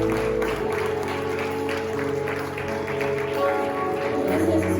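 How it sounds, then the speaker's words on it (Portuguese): Church congregation applauding during worship, a steady wash of clapping over sustained background music, fairly loud and continuous without distinct speech. "Dê uma salva de palmas a Jesus"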